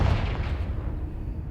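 Confringo blast spell going off in the video game Hogwarts Legacy: a loud, booming burst with a sharp attack, then a dense rumbling decay that lasts more than a second, with no voice over it.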